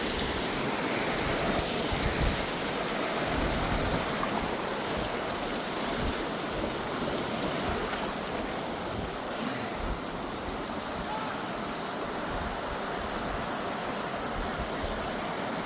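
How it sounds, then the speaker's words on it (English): Waterfall at Klepzig Mill in the outdoors, heard as a steady, loud, unbroken roar of rushing water that lasts the whole stretch. "The water noise is too loud, you can't hear."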